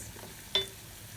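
Fresh and dried red peppers are sautéed in a pan, giving a soft, faint sizzle with one brief clink or stir stroke partway through.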